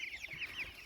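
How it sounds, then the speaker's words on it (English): Small chickens clucking outdoors on an off-grid homestead, a steady series of soft, chirpy clucks heard at moderate distance with no talk. "So you see the little chickens behind us?"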